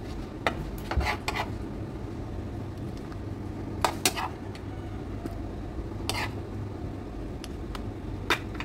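Dishes and utensils clink and clatter while spicy garlic shrimp is plated. Sparse, light metallic taps and knocks come over a steady low kitchen hum, with a few brighter clinks spread through.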